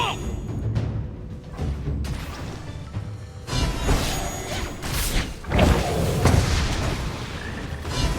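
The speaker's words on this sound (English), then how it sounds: "team has destroyed a turret." Explosive booms and thuds from a turret being destroyed in the mobile battle game Honor of Kings, several heavy impacts layered over continuous game effects and whooshes at steady loudness, without speech.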